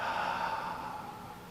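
A slow, soft exhale during a gentle qigong flow: a steady airy breath that fades gradually, quiet and close, with nothing else heard.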